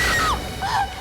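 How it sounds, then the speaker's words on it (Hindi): A woman screams loudly in two sharp rising-and-falling bursts inside a haunted mansion, close and alone. "क्या चीखने की आवाज आई?"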